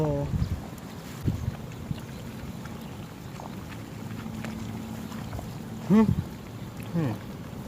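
Strong wind buffets the microphone at an earthen fishing pond, a steady low rumble throughout with occasional gusty bumps and brief voiced sounds near the end.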